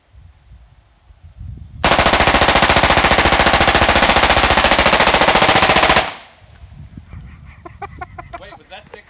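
A 5.56 rifle fires a 60-round burst on full auto, about four seconds of rapid, loud, unbroken gunfire. Quieter outdoor sounds and faint voices come before and after it.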